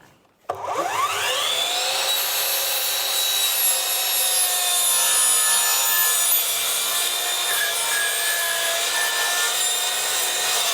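A miter saw spins up with a sharp whine and bites into wood for a mallet, then holds a loud, steady, high-pitched cutting roar for about ten seconds, close by and with no voices.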